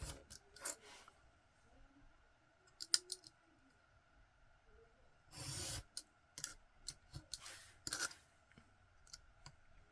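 Scissors snip through a piece of book page with glued purchase pieces, trimming off a black edge: a few sharp, close cuts and clicks scattered among quiet pauses, with one longer rasping stroke near the middle.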